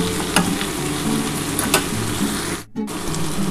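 Mutton frying in oil in a pan gives a steady, close sizzle with stirring scrapes, broken by a brief dip where hot water goes in. No one speaks.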